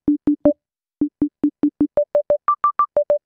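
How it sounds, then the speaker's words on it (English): Plucky bell-like sine wave from Serum with no sustain and a short decay: a quick sequence of short clipped notes that climbs through several pitches in a simple melody, clean and isolated. "So a bell is basically a plucky sound. So we'll take off the sustain, we'll leave a little bit of decay"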